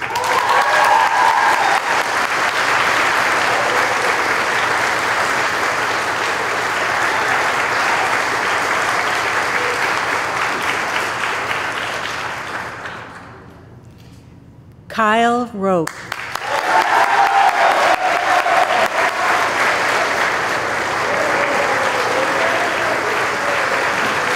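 Loud, sustained clapping from a school graduation crowd dies away to near silence. A brief voice follows, then the dense applause swells back up and carries on to the end.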